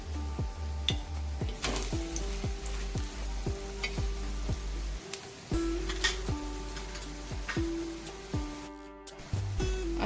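Kailyachi vadi fry in a pan with a steady loud sizzle, broken by the clinks and scrapes of a utensil stirring and flipping them.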